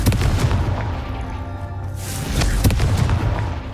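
A Confringo blasting spell going off in the wizarding game Hogwarts Legacy, a sustained rumbling blast with heavy low boom and crackling bursts, swelling again with a second sharp impact midway.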